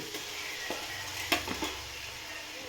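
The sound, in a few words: sautéing garlic in a pan for chicken biryani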